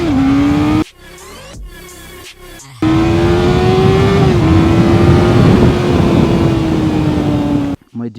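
A QJMOTOR SRK 800 RR motorcycle engine holds a loud, high, steady whine at speed, cut by a couple of choppy bursts of gear changes, with a rushing roar underneath.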